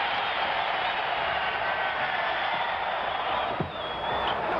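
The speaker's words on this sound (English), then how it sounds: "listen to the applause for the Rookie of the Year as Bridges leaves" Arena crowd noise at a 1975 NBA playoff basketball game between the Chicago Bulls and Golden State Warriors, a steady, dense roar of applause and cheering that holds evenly throughout.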